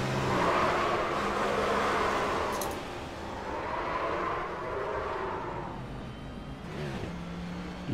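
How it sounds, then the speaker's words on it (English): A race car engine at a Pocono 400 round drops two gears and accelerates hard, a distant, steady roar that dips and climbs again with rising pitch near the end. "dropped it down two gears and straight back on the loud pedal"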